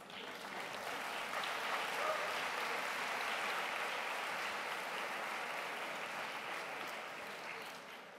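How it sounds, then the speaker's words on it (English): Sustained applause from a conference audience at a round-table session, a dense even wash of clapping that holds steady at moderate level for several seconds before easing slightly at the end. "huge round of applause to yourselves"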